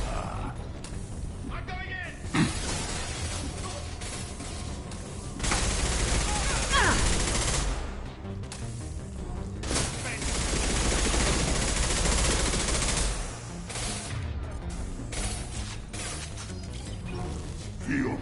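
Gunfire rattles through a Mass Effect 2 firefight in dense, sustained automatic bursts. Louder stretches of fire alternate with brief lulls, and a voice is heard over the shooting at times.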